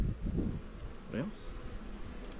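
Honey bees swarm around an opened hive during an early spring inspection, their close, constant buzz droning throughout while a voice briefly sounds over it.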